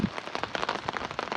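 Rain falls steadily on surfaces in a Punjab village on a windy day, a dense close patter of drops with no talking.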